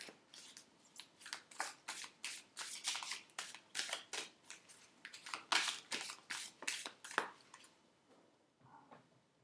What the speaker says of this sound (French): Donc, on va juste prendre une carte.